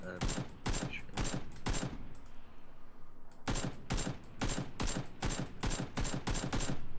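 Rapid bursts of automatic gunfire in the PUBG battle royale game, two long volleys separated by a brief pause, loud and close with faint voices underneath.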